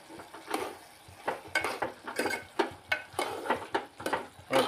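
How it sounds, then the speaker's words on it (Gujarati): Spoon stirring turmeric and salt through a ridge gourd vegetable curry in a pan, a series of close, irregular scraping and clinking strokes against the metal with a faint sizzle underneath and no voices. "અને હવે આને હલાવી નાખીશું એટલે હળદર અને મીઠું એની અંદર ભળી જાય"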